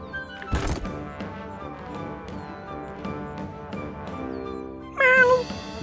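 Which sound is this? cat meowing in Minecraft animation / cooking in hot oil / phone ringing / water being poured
cat meowing in Minecraft animation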